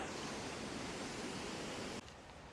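Paddy's River Falls, an 18-metre waterfall near Tumbarumba, New South Wales, gives a steady broadband rush of falling water that stays constant and dense throughout, then drops slightly in level near the end, with no voices.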